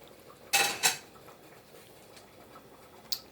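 A spoon stirring cheese mixture into macaroni in a cooking pot gives two sharp metallic clinks close together, followed by near silence and one faint tap at the end.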